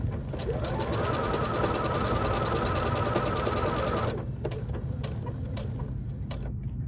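A sewing machine runs in a steady fast rattle while stitching a fabric bucket hat seam, loud and close, then stops abruptly partway through, leaving faint handling clicks.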